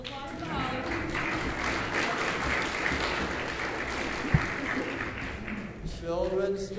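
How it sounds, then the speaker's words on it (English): Audience applause at a Christmas concert, a sustained bed of clapping with voices rising over it at the start and again near the end, plus one sharp knock partway through. "A little applause for the Holly."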